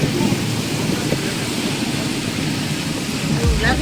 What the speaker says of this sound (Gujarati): ઉપર આ ઉપરવાસમાં વરસાદ ચાલુ છે